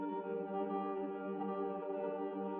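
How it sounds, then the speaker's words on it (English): Electric piano run through a granular engine in the Pigments synth: one steady, rich sustained tone with dense stacked harmonics and a grainy texture, held evenly at a constant level. "it's an electric piano ran through a granular engine"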